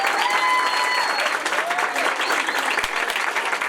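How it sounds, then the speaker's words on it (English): An audience applauds after a book presentation, a dense, loud burst of clapping that fills the room continuously from start to finish, with faint voices mixed in. "Can we please get a round of applause for Kiara?"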